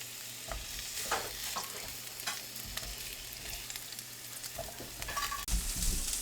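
Onions frying in a pan, a soft, continuous sizzle with occasional stirring scrapes and taps, quiet and close with no voices.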